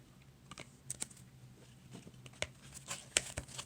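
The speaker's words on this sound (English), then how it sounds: "I'll cut the deck here." A deck of tarot cards is cut by hand, giving faint, close soft taps and papery flicks that come in a loose irregular scatter over quiet room tone.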